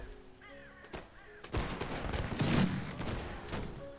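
A ragged volley of musket gunfire crackles from a line of soldiers firing at will in a Mount & Blade Warband battle against pirates, preceded by a few distant sporadic shots before the dense burst swells and fades.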